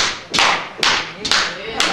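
Joyful hand clapping demonstrated by a church preacher: four sharp, loud claps spaced about half a second apart, close and alone with no talk over them.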